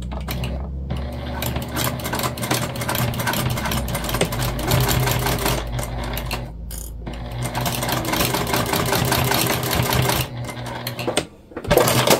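A sewing machine basts a seam on a beginner-friendly Dayna Pack bag, running in a loud, continuous rapid whir close by, with brief pauses and a short stop near the end.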